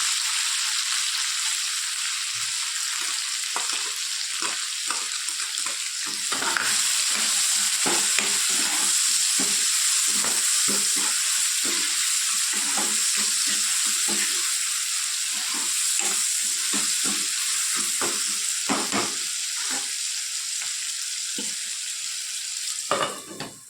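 Tomatoes, onions and chili-ginger paste frying in a pan, a steady loud sizzle with repeated scraping and stirring clicks throughout, no voices.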